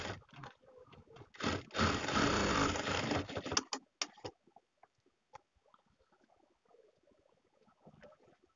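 A domestic sewing machine runs a burst of stitching, about two seconds of steady mechanical whirring, on a long frock while a reinforcing stitch is sewn near the neckline, followed by scattered light clicks and handling noises.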